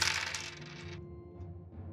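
Dice are rolled for a check in a Ten Candles tabletop horror RPG session: a quick rattling clatter on a table that settles within a second, followed by a couple of faint small taps.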